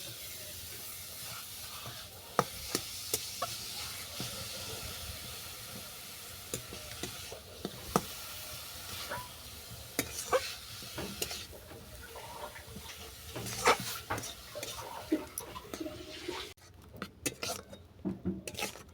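Fried grated carrot with jaggery is stirred in a pan: a constant soft sizzle and hiss runs throughout, with scattered close scrapes and taps of the spoon against the pan.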